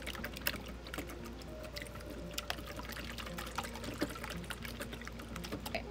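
Buttermilk pours into a bowl for homemade cornbread batter, a faint soft trickle beneath light clatter and small kitchen knocks.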